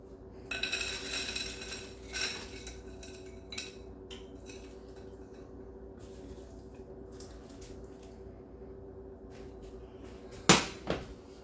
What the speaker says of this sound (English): And we're gonna add the potatoes.